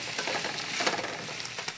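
Food sizzles steadily in a hot pan while a spatula scrapes browned bits from the bottom, the frying hiss continuous and close with a few brighter scraping strokes, no talk.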